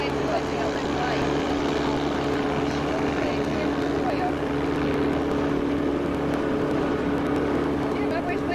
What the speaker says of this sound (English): That's our yacht tender airplane that we tow behind us when we're going in and out of the island.